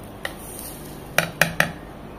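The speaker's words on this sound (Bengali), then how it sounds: "আমি এখানে 2 চামচ চিনি দিলাম" A spoon clinks against a glass or jug while sugar goes into juice: one light tap, then three quick sharp clinks close together, each ringing briefly over a quiet background.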